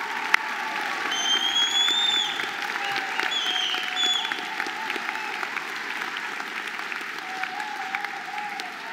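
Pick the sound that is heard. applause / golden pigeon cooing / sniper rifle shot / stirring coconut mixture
applause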